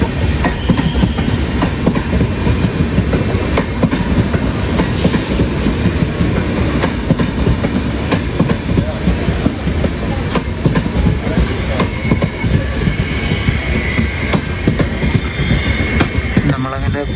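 The Ranikhet Express sleeper train runs on rails near Gurugram, a steady loud rumble with rhythmic clickety-clack of wheels over joints heard from inside the carriage, continuing throughout.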